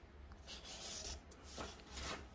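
A pencil drawing an armhole line against an armhole ruler on a linen blouse sleeve pattern makes a faint, steady scratching and rubbing, quiet and close, with no talk.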